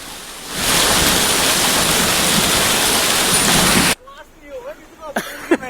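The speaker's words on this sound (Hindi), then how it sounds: "मौसम ने करवट बदली और कई जगहों पर बारिश हुई" Heavy rain in Uttarakhand during a spell of hail and stormy weather: a loud, dense, steady hiss of falling rain that cuts off abruptly, after which a voice begins speaking.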